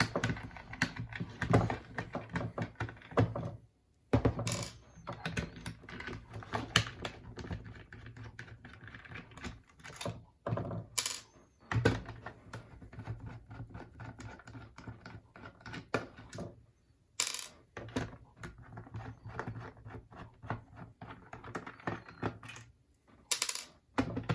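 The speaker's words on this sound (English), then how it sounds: "I'm going to start by grabbing my number 1 or number 0 Phillips screwdriver and unscrewing all the screws in the knockout." Small Phillips screwdriver working the screws out of a Nerf Knockout/Demolisher rocket blaster shell, a close run of light plastic clicks, ticks and small rattles with brief pauses, no talking.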